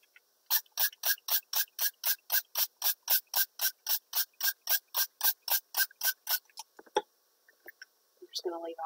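Rapid, steady pumping of a trigger spray bottle spraying terracotta ink onto plastic wrap, about twenty short hissing squirts in an even rhythm, close up, then quiet and a brief voice.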